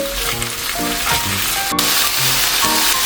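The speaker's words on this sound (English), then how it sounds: "when you start to hear the sizzle of the garlic, go ahead, add all your vegetables at once." Garlic and vegetables sizzle loudly and steadily in a frying pan, a constant hiss with occasional clinks and scraping from stirring.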